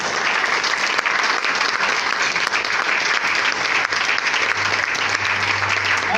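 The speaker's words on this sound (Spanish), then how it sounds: "Denle un aplauso al Rey de Reyes." A church congregation applauds steadily and loudly, dense continuous clapping filling the space from start to finish with a low hum underneath.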